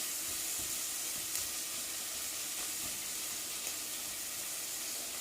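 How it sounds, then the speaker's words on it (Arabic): Garlic and onion sauté in a pan for a mushroom soup, giving a steady, moderate sizzle with light crackles throughout and no voices. "راح نبدي نشوحهم أو نحمسها لمدة من 3 إلى 4 دقائق"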